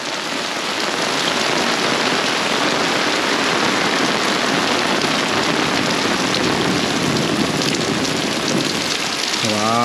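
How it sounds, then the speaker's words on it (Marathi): Heavy monsoon downpour in Sangameshwar, Konkan, a loud, unbroken roar of rain drumming on surfaces near a wooden shed, steady throughout, with a brief rising tone near the end. "खतरनाक पाऊस सुद्धा ना खडखडतोय"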